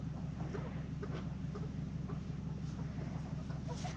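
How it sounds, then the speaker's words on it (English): Chickens clucking softly while being moved at night into a new pen on pasture, scattered faint calls over a steady low hum of background noise. "let's get these chickens unloaded into their new pen"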